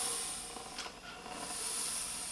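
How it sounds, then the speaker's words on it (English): A handheld steamer hisses steadily and fairly faintly while steaming the top of a modern comic book to remove creases, a continuous airy rush with slight swells and no voices. "I'm gonna steam the whole top of this book."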